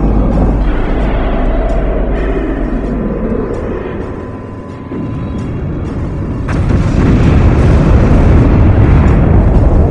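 Loud, continuous rumbling booms and roaring blasts of a cannon firing in Homeworld: Emergence, swelling louder in the second half, with no voices.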